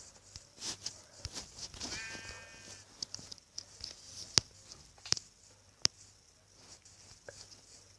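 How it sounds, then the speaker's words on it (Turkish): A sheep bleats once, brief and somewhat distant, amid faint rustling and a few sharp clicks in a quiet setting. "Arkanda koyun var."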